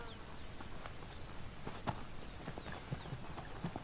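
Konik pony hooves clip-clopping at a stable in Poland, an unhurried, irregular sequence of hoof strikes on a hard surface, moderately close, with faint birdsong in the background.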